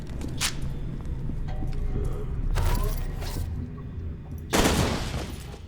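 Gunfire rattles in the shooter FEAR 2, a steady bed of rapid shots with a few sharp louder bursts, loud and close throughout.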